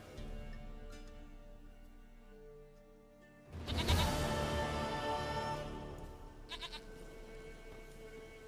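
A goat in The Witcher 3 lets out a loud, wavering bleat against quiet game ambience, followed by a trailing tail and a couple of short softer calls.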